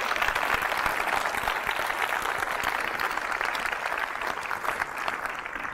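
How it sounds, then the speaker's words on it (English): Steady, loud applause from a premiere audience fills the room throughout, dense clapping sustained without a break. "a big thank you and a round of applause to Jim Martin and Paul Davidson."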